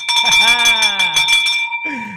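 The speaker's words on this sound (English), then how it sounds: "That's definitely a bell." A bell rings with a steady, sustained metallic tone that holds for about two seconds while someone talks over it.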